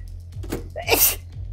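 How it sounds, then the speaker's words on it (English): A single sharp human sneeze bursts out near the middle, loud and close, against a low steady hum from a Roblox Flee the Facility game session. "And I'm about to sneeze."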